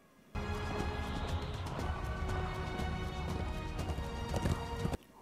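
Horse hooves clip-clop at a steady trot in an X-Men '97 animated episode, fairly loud and close over a music score, with no talk.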